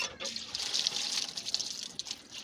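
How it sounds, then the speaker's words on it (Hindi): Tap water runs and splashes steadily over food being rinsed in a strainer in a home kitchen, a continuous close hiss with small fluctuations throughout. "छानी को फिर धो के ना फिर इसमें डाल के ऊपर से पानी मारना"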